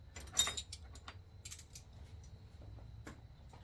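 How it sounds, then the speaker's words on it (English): Metal wrenches clink and jangle as they are picked up during a Honda Nighthawk CB700SC motorcycle engine teardown, with a cluster of bright clanks near the start, a second burst midway and a faint clink near the end over low workshop hum. "Grab all our wrenches"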